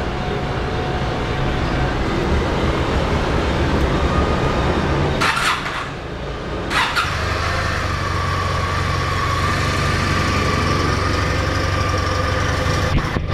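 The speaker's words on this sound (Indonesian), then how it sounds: "kita coba saja hidupkan seperti apa bunyi motor 2 silinder ini" A modified Kawasaki W800 two-cylinder motorcycle engine runs at a steady, loud, close idle, briefly drops off partway through, then catches again and settles back into an even burble.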